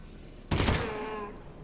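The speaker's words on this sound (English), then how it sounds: "going to standard fire mode, or rather burst fire mode." A single sharp burst of gunfire from a weapon in burst fire mode in Half-Life: Alyx, a close, loud crack that rings out and fades over about a second.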